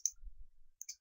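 A computer mouse clicks twice, sharp and close, about a second apart, while a moving-load animation is set up in Midas Civil bridge analysis software for an arch bridge.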